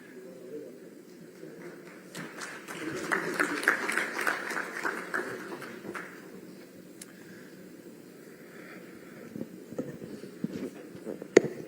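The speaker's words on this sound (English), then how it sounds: "Ladies and gentlemen, a round of applause for sir." Audience applause for a guest of honor at a CII international aerospace conference in Vizag, a moderate wash of clapping that swells and then fades under a hall ambience, with occasional talk.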